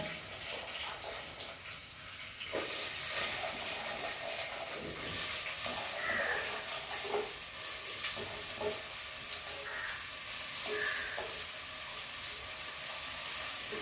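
Food steadily sizzles and fries in a clay pot over a wood-fired stove, close and continuous, with occasional stirring scrapes and light clinks.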